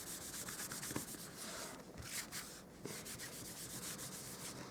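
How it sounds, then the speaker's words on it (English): Steady, close rubbing as an embossing buddy is swept back and forth over cardstock, a soft papery scrubbing that keeps up evenly with a few slightly stronger strokes, with no voices. "I'm going to add, use my embossing buddy."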